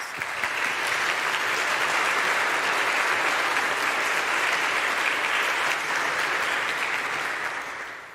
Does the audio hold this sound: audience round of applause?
yes